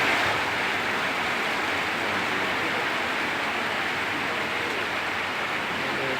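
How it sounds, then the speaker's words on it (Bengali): Heavy rain pours down in a steady, dense hiss that stays constant and fairly loud throughout, with no voices or other distinct sounds. "কি বৃষ্টি"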